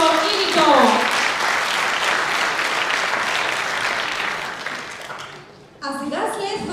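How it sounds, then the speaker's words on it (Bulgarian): A theatre audience applauds Kicho and Nikol at a Christmas show, steady clapping that fades out near the end. A voice speaks at the start, and another speaks again after the clapping stops. "Моля още веднъж за вашите аплодисменти за Кичо и Никол!"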